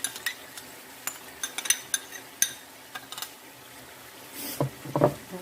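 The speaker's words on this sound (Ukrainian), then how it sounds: "перемішую, щоб з вершками протушилося трошки з вершками" Liver stirred with cream in a frying pan, soft scraping and clinking of a utensil against the pan in scattered strokes, with a brief louder knock near the end, fairly quiet and close, no talking.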